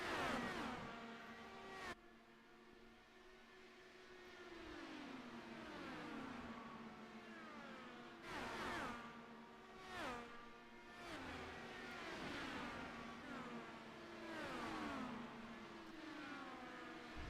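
Race cars lapping the oval at Phoenix in a sim racing game, engine notes rising and falling as several cars pass in succession, a steady layered drone with repeated swooping pass-bys, fairly quiet.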